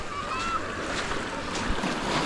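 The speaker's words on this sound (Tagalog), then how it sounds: "Ganda ng tunog ng alon" Ocean waves wash steadily along a shoreline, a continuous broad rush with gentle swells, mixed with wind buffeting the microphone.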